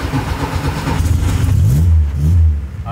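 VW Gol car engine running after the key is turned, a loud low mid-pitched engine rumble with a couple of rising revs before it settles, no talk.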